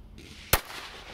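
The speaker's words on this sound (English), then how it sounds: "lighting a firecracker using electricity" A green-fuse firecracker set off with electricity bursts in a single sharp, loud bang that cuts through a quiet room, then fades quickly.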